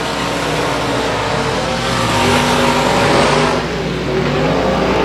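Race car engine roaring loudly and steadily as it heads into turn 1 at a dirt-track regular race program, a dense continuous drone that swells briefly mid-pass before settling, with no voices.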